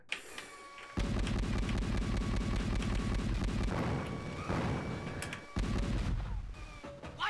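Turret gunfire in the DOS game Cyberia: a loud, rapid, continuous stream of heavy low shots lasting several seconds, pausing briefly and then starting again in a second sustained burst.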